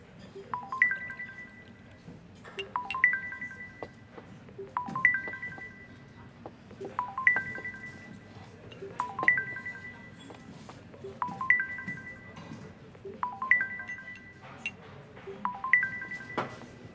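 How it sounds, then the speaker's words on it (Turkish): A telephone rings in a TV drama scene, repeating a short electronic ringtone pattern about every two seconds. The ring is steady but fairly faint over a low background hum. "aç şu telefonu"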